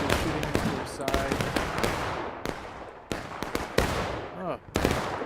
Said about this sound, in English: We're all maneuvering, they're shooting into their side.